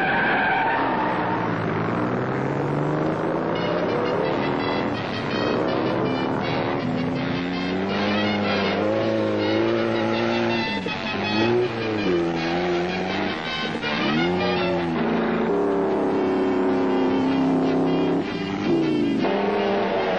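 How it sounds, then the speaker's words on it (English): Cartoon race cars from a 1969 animated desert race start up and skid, with loud revving engines rising and falling in pitch, squealing tires and screeching slides sustained throughout, loud and close with no talking. "Drivers, start your engines."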